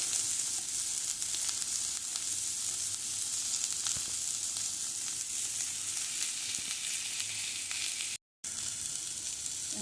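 Onions fry in a pan with salt for a Tamil avarakkai seed kuzhambu, giving a steady, close hiss and crackle of oil throughout, with no talk.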